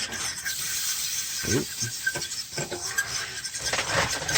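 A fork improvising as a whisk scrapes and taps through a mixture in a pot as it is brought to a boil, giving quiet irregular rubbing strokes and a few brief clinks, close and alone.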